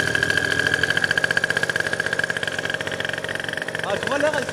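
An MBK Stunt 70cc scooter idles close by with a steady, pulsing two-stroke putter and a constant whine, and the engine note wavers slightly near the end.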